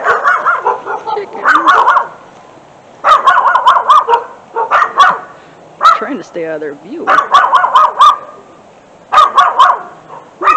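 Dogs bark loudly in repeated rapid volleys near a yard with chickens, the bursts separated by short pauses, while a person speaks quietly between them.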